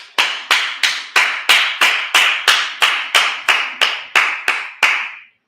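A congregation at a Sabbath service claps in a steady, slow unison rhythm, about thirteen sharp, loud claps evenly spaced before stopping, with no talking over them.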